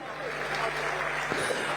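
A crowd at a Shiv Sena (UBT) rally in Northeast Mumbai claps in a sustained, thick wave of applause, with faint voices mixed into the steady roar and a low hum underneath.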